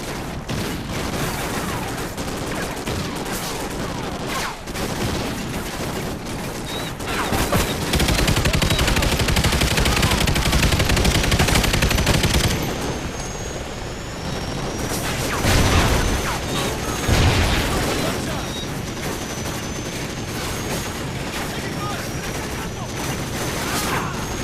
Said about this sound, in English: we're on the exterior of the hotel, taking heavy fire from enemy fire